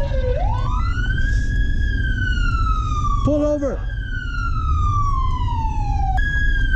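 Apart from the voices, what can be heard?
police car siren in video game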